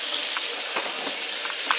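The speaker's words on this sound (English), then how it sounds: "I'm over here burning my damn butter" Butter sizzles and burns in a hot pan, a close, steady crackling hiss with small pops, heard alone for a brief moment.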